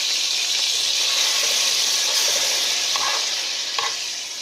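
Red pepper and seasonings sizzle steadily in a hot pan, a bright continuous frying hiss close up, with a few soft stirring scrapes near the end.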